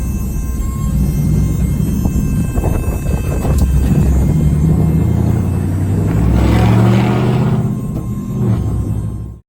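A Ford Fusion with a swapped Coyote engine out on a street test drive, a loud, steady low rumble of engine and road noise that swells briefly near the end, with wind buffeting throughout.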